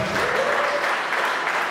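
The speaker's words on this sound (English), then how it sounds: "So let's give a really warm applause to João, to Ben," A short, steady wash of warm audience applause at a coding bootcamp app demo event, dense and continuous throughout the moment, with a voice faintly audible beneath.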